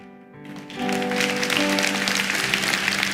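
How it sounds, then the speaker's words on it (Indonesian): A church congregation breaks into applause after a moment of quiet, a faint sustained tone lingering underneath. The clapping swells quickly and holds at a steady, full level to the end. "Dan tepuk tangan ini pun bukan pahala untuk saya"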